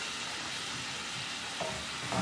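Sliced peaches sizzle steadily in a hot pan for a peach flambé, a quiet, continuous frying hiss with a couple of faint clinks of a utensil near the end.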